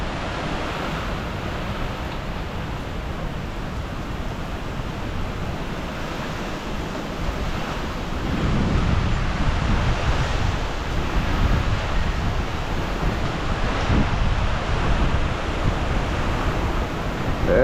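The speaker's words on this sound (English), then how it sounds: "So man, we're gonna start seeing some of them bigger gusts like that more frequent." Continuous hurricane wind roar (Hurricane Francine) that surges louder about halfway through into a strong, sustained gust buffeting the microphone, with no voices.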